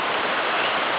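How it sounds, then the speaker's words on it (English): Steady, dense rain falls hard outdoors, a continuous close hiss of drops with no voices. "Look, now it's raining harder."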